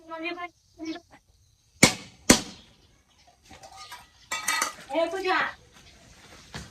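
Pots and dishes being scrubbed and washed, with sharp metallic clanks of pans and cutlery between bursts of scraping, while people talk in Marathi.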